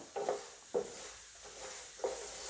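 Horse gram dry-roasting in a pan is stirred in a few separate scrapes, soft rasping strokes against a faint hiss, fairly quiet with gaps between strokes and no talk.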